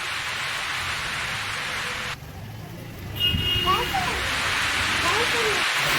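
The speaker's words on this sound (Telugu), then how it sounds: "స్టార్ట్ అయింది వర్షం" Steady rain falling outdoors, a continuous broadband hiss that drops briefly and then returns louder, with faint chirping and voices in the background.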